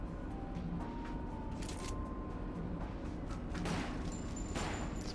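Rapid gunshots from Resident Evil: The Umbrella Chronicles ring out as a player shoots out lights, sharp bursts layered over a steady, busy game background.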